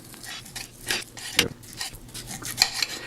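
Knife cubing cooked steak on a board for an omelet, a few irregular sharp taps and scraping strokes, close and moderately quiet, with light rubbing between cuts.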